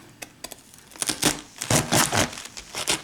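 A knife cuts through the firm core of a cabbage, making close, crisp crunching and crackling bursts that start with a few light taps and then run densely for about two seconds, with no talking.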